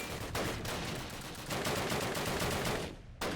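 Gunfire at tanks in the video game Call of Duty, faint bursts of rapid shots and blasts running almost continuously, with a sharp burst at the end and no talking.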